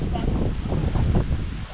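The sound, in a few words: strong cold wind at islet campsite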